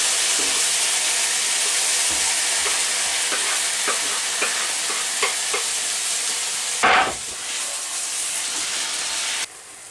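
Sun-dried tomato paste is stirred into soft tomatoes simmering in a pan, a constant sizzling hiss broken by soft scrapes and taps, with a sharp burst of steam near the end before the sound drops.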